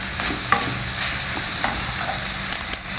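Cabbage and soaked chana dal sizzling and fried in a pan while being stirred: steady loud frying hiss with scraping spatula strokes and a few sharper clanks, no talking.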